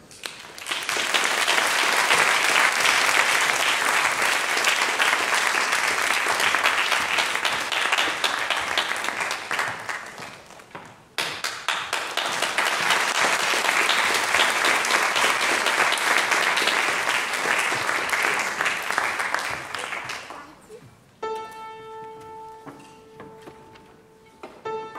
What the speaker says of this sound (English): Please welcome our conductor with a round of applause.